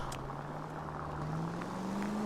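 A car passes in the video game L.A. Noire. A steady engine drone slowly rises in pitch under a continuous wash of city ambience, moderately loud and without talk.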